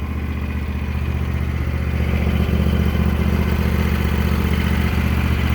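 A Husqvarna TS 354XD garden tractor with a 24 horsepower Kawasaki engine idles with a steady, close mechanical rumble and a light clatter, running alone and growing slightly louder partway through.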